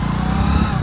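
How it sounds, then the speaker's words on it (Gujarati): A motorcycle engine idles and runs just after being started, a close, steady, throbbing putter in one brief burst, with no voices. "કબીર સિંઘે બાઇક ચાલુ કરી દીધું."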